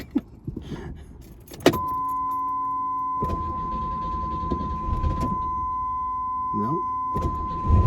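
A car's engine cranks and catches after a VATS anti-theft check, then settles into a steady idle with a constant whine, with brief clunks and a short spoken remark over it.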